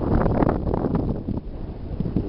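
Steady wind gusting over the microphone on the bank of the Pripyat river during ice drift, a loud continuous roar and rumble that rises and falls slightly.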